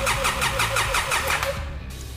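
An engine cranks but fails to start, the starter churning in a quick, even run of about eight pulses before cutting off abruptly into near silence.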